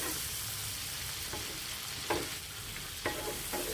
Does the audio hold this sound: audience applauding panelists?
no